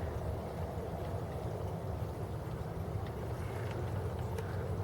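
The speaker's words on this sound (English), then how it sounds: "You could hear that the pump calmed down a lot." A steady, low mechanical hum of a Fluval 306 aquarium canister filter pump runs continuously with a soft watery rush layered over it, even and unbroken throughout.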